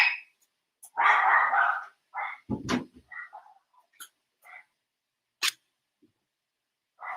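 Dogs bark in short, sharp bursts close by indoors, with several separate barks and yips spaced across a quiet background.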